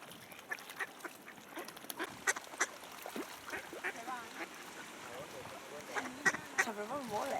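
Ducks quacking and honking on the water at Sitges, where swans also gather, irregular calls over a quiet outdoor background with people talking nearby.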